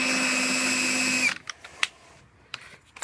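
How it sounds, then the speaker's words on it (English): A power drill whines steadily for just over a second, boring a pilot hole with a 1/16 inch bit while installing gooseneck wiring on a 2019 Ram Box truck bed, then stops, leaving a few faint clicks and taps. "I drilled it with a 1/16 of an inch drill bit."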